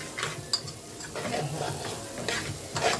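Rice and vermicelli being sautéed and stirred in a pot, a steady frying sizzle under repeated scraping strokes of a spoon against the metal, with a few sharper clinks, close and moderately loud with no talking.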